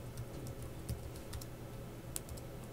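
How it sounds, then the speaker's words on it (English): A password being typed on a computer keyboard at a workstation, with soft, irregular key clicks over a steady low hum of room and machine noise. "I'm going to type in my password correctly."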